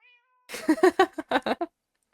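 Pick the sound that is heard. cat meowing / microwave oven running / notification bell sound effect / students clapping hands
cat meowing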